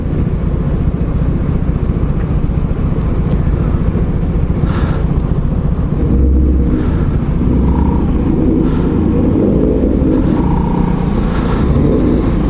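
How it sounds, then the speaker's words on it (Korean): A Ford Mustang engine rumbles and revs with a deep, steady exhaust note over continuous traffic-like background noise. "머스탱 소리 좋네요"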